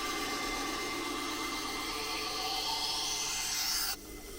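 A knife blade is ground on a diamond wheel while building a K5 knife, a steady abrasive rasp whose hiss rises in pitch before cutting off abruptly near the end, close and alone.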